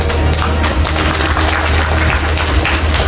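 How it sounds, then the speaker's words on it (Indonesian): An audience applauds the governor of Nusa Tenggara Timur at a literacy ceremony, a loud, dense and continuous clatter of clapping that fills the room without pause. "Boleh kita beri tepuk tangan sekali lagi hadirin sekalian untuk Gubernur Nusa Tenggara Timur"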